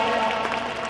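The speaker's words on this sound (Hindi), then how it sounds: "सही कह रहे हैं तो ताली बजाओ" An audience at a religious saints' gathering in Hardoi claps steadily, a dense wash of many hands close by with no clear gaps.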